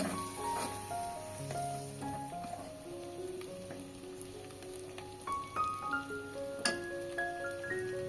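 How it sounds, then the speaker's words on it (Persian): Split peas sizzle and fry in a pan with meat and onion for a Gilani nane ghormeh stew, a steady crackling hiss with scattered pops, close by, and no talk over it. "1 دقیقه لپه رو هم با مواد تفت بدین."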